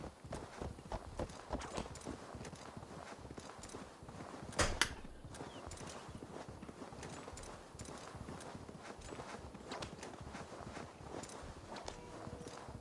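A horse ridden at a steady pace in Assassin's Creed Valhalla, a continuous rhythmic clip-clop of hooves at moderate distance with a brief louder clatter midway and faint speech.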